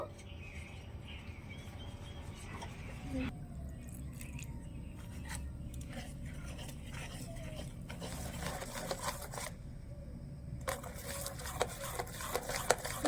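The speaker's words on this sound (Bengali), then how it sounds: "এবারে অল্প অল্প করে জল মিশিয়ে একটা গোলা রেডি করে নেব" Spoon scrapes and stirs dry ingredients for aloo chop batter as small amounts of water are worked in, with irregular soft scraping and clicking close up and faint voices and birds in the background.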